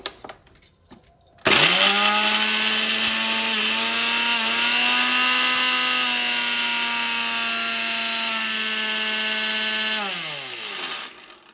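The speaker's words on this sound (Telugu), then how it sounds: "ఇప్పుడు మిక్సీకి వేసేసుకుందాము" An electric mixer grinder grinding roasted spices starts abruptly and whirs with a loud, steady whine for several seconds, then winds down as it stops.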